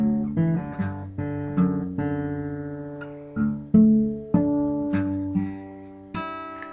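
Acoustic guitar picks out the intro riff of a song, a series of clear plucked notes and short chord stabs in an uneven melodic rhythm, played solo and up close with no voice.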